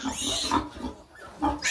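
Native pig grunting at close range in a few rough, throaty bursts with short pauses between them, no talking.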